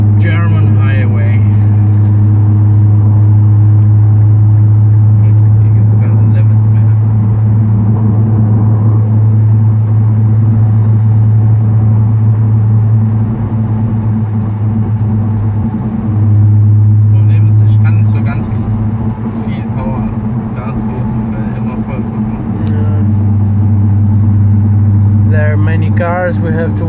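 Cars roll past on a German highway, a continuous loud low rumble with swells as vehicles pass close; people talk over the traffic throughout.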